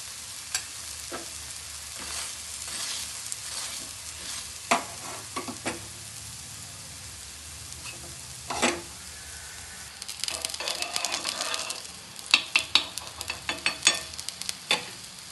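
Malpua batter frying in a pan gives a steady sizzle, broken by stirring and scraping clatters that grow busier and louder toward the end. No one speaks.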